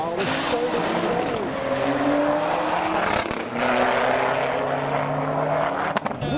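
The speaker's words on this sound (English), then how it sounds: "We've got the 2 Series versus the Superdry Spec Skoda, which is diesel." Drag race between a BMW 2 Series and a diesel Skoda at a modified car show, with loud, sustained engine roar from accelerating cars, sharp exhaust crackles near the end, and crowd noise and voices mixed in.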